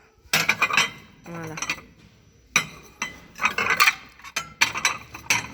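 Large ceramic dinner plates in a store's tableware section clink and clatter in several quick bursts of handling, with brief pauses between, and a voice says a single short word.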